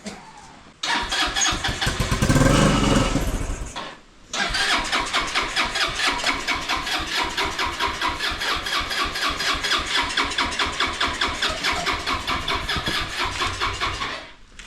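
A small barn-find buggy engine cranks roughly for a few seconds, cuts out, then catches and settles into a loud, steady, rapidly pulsing run close by, with no talking.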